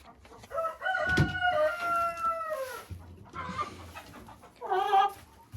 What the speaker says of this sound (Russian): Молодцы куры.